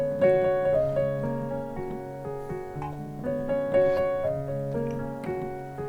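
Piano playing the chorus of a song, a melody in the right hand over bass notes and chords in the left, calm and sustained with gently overlapping notes and no voice.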